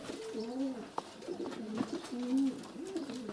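A male pigeon coos during courtship, a steady series of low, throaty rolling coos repeating close by over a faint outdoor background.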